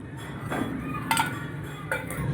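A cooking pan set down on a home stove to heat oil for a green chickpea curry, with a few clinks of metal cookware against the burner grate over a steady low room hum.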